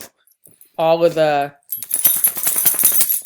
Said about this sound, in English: that's my dog shaking